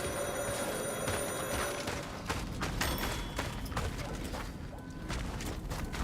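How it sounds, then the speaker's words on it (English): A telephone rings repeatedly in the horror video game Cronos: a bright, steady electronic bell tone over a dense backdrop of mechanical clatter and sharp game sounds. "Can't answer that phone call."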